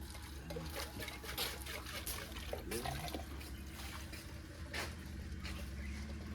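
Water spills and trickles from a tank outdoors, a continuous splashing flow with scattered drips, fairly faint and steady throughout, with no talk over it.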